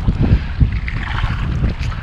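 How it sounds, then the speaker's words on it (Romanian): Gusty wind buffets the microphone outdoors beside a river during a fishing trip, a loud low rumble that rolls steadily through the brief moment with no talk. "Adevărul că e cam urât afară, bate vântul."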